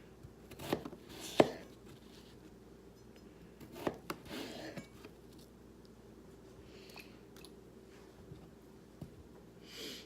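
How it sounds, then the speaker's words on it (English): A knife cutting potato rings into quarters for chicken soup, a few sparse, soft chopping thuds on a cutting board, close up in a quiet kitchen. "I'm just gonna cut these rings into quarters because I really want the potato to cook"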